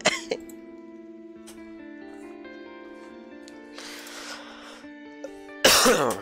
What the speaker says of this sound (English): My coughs are getting worse.